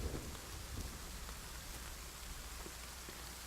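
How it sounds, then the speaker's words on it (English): Steady rain pours down in the survival game The Forest, a dense, even hiss with faint low rumbling underneath and no voices. "And of course it's raining again."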